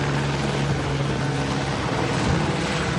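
A helicopter flies overhead, its dense, steady rotor and engine roar filling the scene at a constant loud level throughout.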